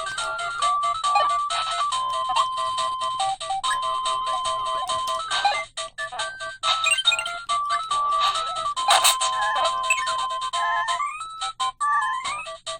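Slightly slowed Kirby game music plays from an X12 handheld emulator, a steady run of bright electronic melody and chiptune tones with brief breaks, loud and alone without talk.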